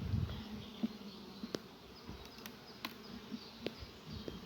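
Honey bees buzz in a faint, steady drone around an open beehive during a spring inspection, with occasional soft knocks and taps from handling the frames.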